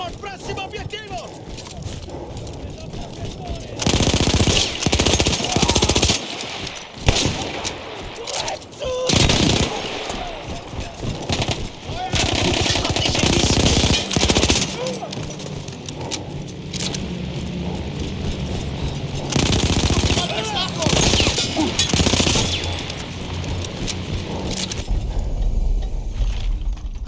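Machine gun fire in Battlefield 1 from a mounted gun manned by Austro-Hungarian troops, loud bursts of rapid shots and fusillades with explosions and mechanical clanks, mixed with game battle noise.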